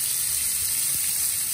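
Monkfish pieces sizzling in a pan, a steady, close frying hiss that holds through the whole short moment.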